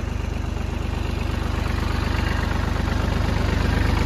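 A tractor engine idles with a steady, low, pulsing chug, close and continuous, with no talking.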